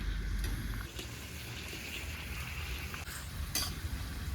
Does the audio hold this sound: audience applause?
no